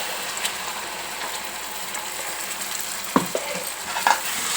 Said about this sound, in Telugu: మంచిగా నూనెలో వేగనియాలి.